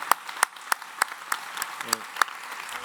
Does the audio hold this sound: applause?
yes